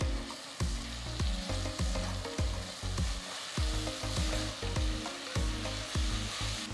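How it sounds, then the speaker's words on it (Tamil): Ginger garlic paste sizzles loudly in a hot pan while a spoon scrapes and stirs in quick, repeated strokes, with no talking. "2 டீஸ்பூன் இஞ்சி பூண்டு விழுதை சேர்த்து நல்லா வதக்குங்க"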